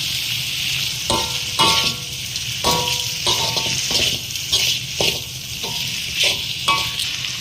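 Onions and tomatoes sauté in a pan for a spicy kilangu masala, sizzling steadily and loudly up close while a spoon stirs and scrapes the pan at a regular rhythm, around seven times in a few seconds; no voices.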